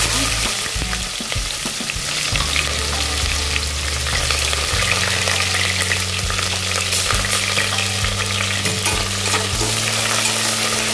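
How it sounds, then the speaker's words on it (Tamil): Chopped onions added to a pan of frying cashews hiss and sizzle loudly and continuously, with stirring scrapes and a low hum running beneath throughout. "கட் பண்ணி வச்சிருக்க வெங்காயம் ஆட் பண்ணிக்கலாம்."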